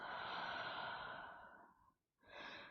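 A long, steady breath out during a slow yoga practice, a soft airy exhale lasting about two seconds that fades into silence before the next breath begins, close and alone with no talk.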